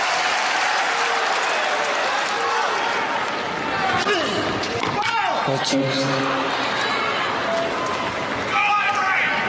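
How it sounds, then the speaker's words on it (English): US Open tennis crowd during a second-round match applauds and murmurs in support, a loud, steady spread of clapping and crowd noise with a voice speaking over it. "A murmur of now support from this crowd."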